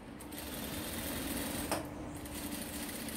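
A sewing machine stitches a lapel of fabric with a steady, rapid mechanical whir, running continuously and close by with no voices.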